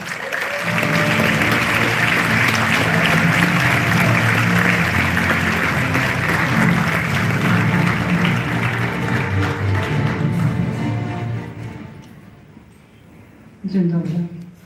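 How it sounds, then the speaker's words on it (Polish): An audience applauds a woman named Patrycja Kielecka as she is welcomed on stage at a live event. The clapping is loud and sustained for roughly ten seconds, with voices mixed in, then fades before a short burst returns near the end. "Wielkie brawa!"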